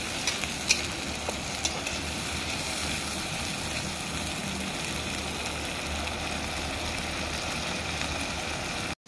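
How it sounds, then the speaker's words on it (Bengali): Chili paste and spices sauté in a pan with a steady, close, continuous sizzle and frying crackle, holding an even loudness throughout with no voices. "এই সব মশলাগুলোকে আমি ভালো করে সাঁতলে নেব।"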